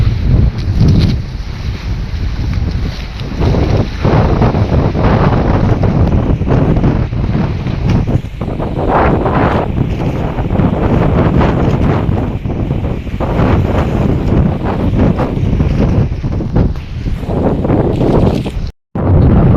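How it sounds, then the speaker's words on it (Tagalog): Strong wind at a ship anchorage roars steadily into the microphone, buffeting loudly and continuously with rumbling gusts throughout. "kusog po ng hangin mga kabangka"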